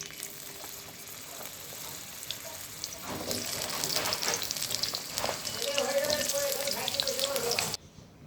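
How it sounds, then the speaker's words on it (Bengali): Pumpkin pieces drop into hot oil in a home kitchen, setting off a steady, close sizzle that swells louder and busier partway through, then cuts off abruptly near the end. "তেলটা ভালো গরম হয়ে গিয়েছে। এবার আমি প্রথমে দিয়ে দেব কুমড়োগুলো।"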